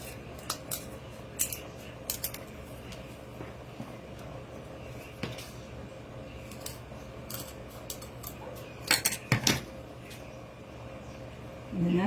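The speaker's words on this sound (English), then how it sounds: "I'm going to cut off the round edge." Scissors cut off the round edge of a DIY patriotic craft sign for the 4th of July, giving faint, scattered snips and scraping crunches close by, with a louder cluster of cuts near the end and a quiet room tone.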